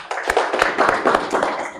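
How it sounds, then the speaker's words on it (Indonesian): A school classroom of seventh-graders clapping hands together, a short, close burst of fairly loud, slightly uneven claps with several sharp individual hits. "Tepuk tangan."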